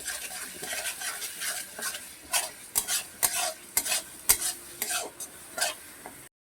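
Goat meat with onion and garlic paste is stir-fried, a low sizzle broken by sharp, repeated scraping and clinking of a spoon against the pot, close and without talk.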